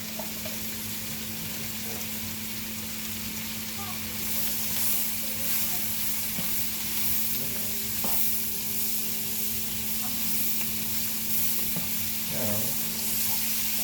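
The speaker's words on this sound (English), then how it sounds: "Let's get them going and saute them for about 3 to 5 minutes." Onions sauté in butter and oil in a pan, a steady hiss that swells louder partway through as they are stirred, with occasional spatula scrapes and a low steady hum underneath.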